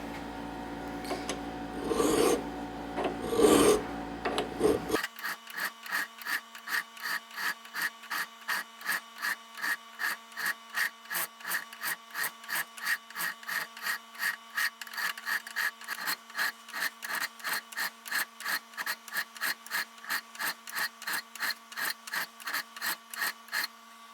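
A hand file squares up the corner of a hidden tang knife blade held in a small vise against a plunge line jig. After a few seconds of other handling noise, steady rhythmic rasping strokes repeat evenly, close up, with no talk.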